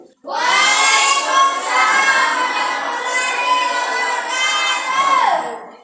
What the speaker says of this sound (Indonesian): Tepuk tangan buat Bayu Permadi